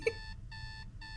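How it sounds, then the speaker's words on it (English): An alarm clock sounds repeated electronic beeps in an even on-off rhythm, about three pulses in quick succession, clear and moderately close, with no talking. "I hate that alarm. Beep, beep, beep, beep, beep. That's so annoying."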